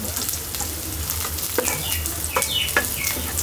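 Bori lentil dumplings and garlic fry in hot oil in a pan, giving a steady close sizzle with crackling pops and a few scraping stirs.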